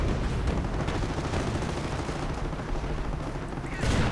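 Artillery and small-arms fire in a World War II battle game, with a dense, continuous rumble of distant shelling and gunfire and a louder burst near the end.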